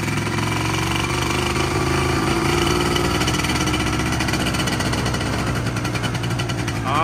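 Yamaha 125ZR two-stroke motorcycle engine running at idle, a close, loud, rapid rattling putter that holds steady throughout.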